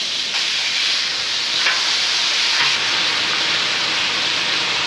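Melinda's Japanese barbecue sauce hitting flanken ribs on a Blackstone flat-top griddle, a loud, continuous sizzle and steamy hiss with a few brief flare-ups, no voices.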